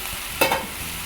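Baguio green beans drop into a pan of sizzling beef, a short burst of sharper crackle over a constant soft frying hiss, close by.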